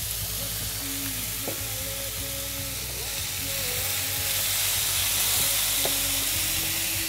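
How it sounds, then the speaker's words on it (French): Zucchini with parsley, chives, thyme and finely chopped coriander sizzles and fries steadily in a pan, a loud continuous hiss with a few faint clinks of stirring. "je vais laisser mijoter une dizaine de minutes pour que la courgette cuise et prenne bien les senteurs de tout ça"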